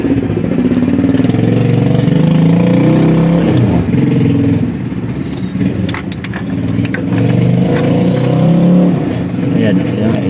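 A Mitsubishi L300 engine with a knocking fault revving up and dropping back, a loud close mechanical roar rising and falling twice, with people talking over it.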